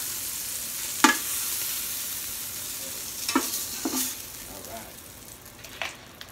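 Ground beef and short rib browning in a pan for chili, a soft steady sizzle underneath with several scraping stirs of a utensil scattered through, fairly quiet and close.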